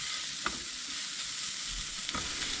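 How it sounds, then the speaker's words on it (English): Golden-brown fried onions and slit chillies stirred in a pan, with a steady sizzle of frying throughout and a couple of brief scraping knocks from the spoon against the pan. "give it a nice stir"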